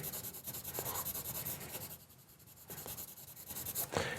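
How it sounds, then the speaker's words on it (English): Soft pencil shading on paper, a continuous scratchy rubbing with a few brief pauses and sharp strokes, close and moderately quiet, heard without talk. "I can get out that soft pencil and dig in and get a nice deep dark shadow"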